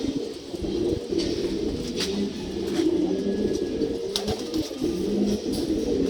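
Old-blood brown-necked pigeons coo in low, soft murmurs that run steadily throughout, with a few faint bird calls and wing sounds mixed in on a cloudy day.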